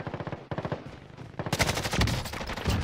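Rapid automatic gunfire in Warzone, loud and close, starting as steady bursts and then swelling into a denser, harsher barrage near the end, with no talking.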